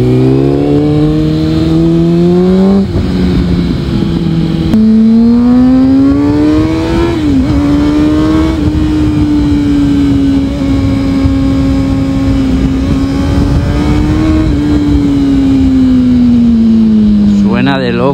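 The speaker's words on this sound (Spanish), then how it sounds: "la moto zumba como un demonio" A Honda CBR motorcycle with an aftermarket exhaust drones loudly and continuously, its pitch rising and falling with revs; a loud, close exhaust note dominates throughout.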